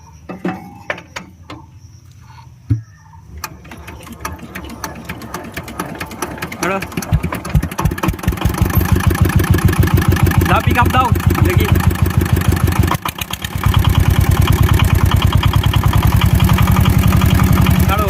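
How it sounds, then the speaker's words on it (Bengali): R 190 engine cranked and started, several sharp attempts giving way to a loud, fast, rapid-fire chugging that steadies into continuous running, close by, with voices talking over it. "স্টার্ট দাও দেখি শব্দ কি বলে"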